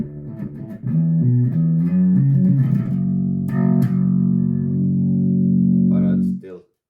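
Electric bass plays through a Darkglass Dingwall 35th Anniversary drive pedal, giving a sustained distorted tone with a few plucked notes leading into a long held chord that cuts off at the end.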